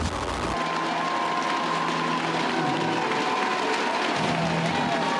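Spectators at the Fortissimus 2009 strongman competition, about 2,500 strong, applaud and cheer steadily throughout, a dense roar of clapping with no break.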